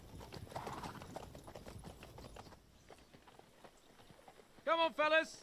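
Horse hooves clip-clop at a walk in the medieval role-playing video game Kingdom Come: Deliverance II, soft and steady under ambient sound, followed near the end by two loud, close horse snorts or whinnies.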